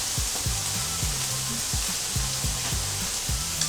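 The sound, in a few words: ham frying in a pan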